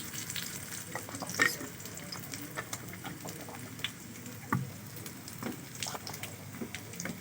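Oil sizzles and crackles in a pan, a continuous close frying hiss scattered with small pops and spits, plus an occasional louder clink or stir.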